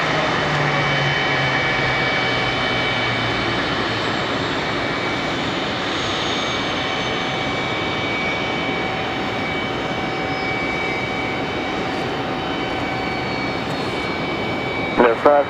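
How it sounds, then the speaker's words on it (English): An American Airlines Airbus A319 jet comes in to land at Raleigh Durham International, its engines giving a loud, sustained whine and roar throughout, with a short burst of noise at the very end. "another A319, American Airlines 2083 coming in from DCA"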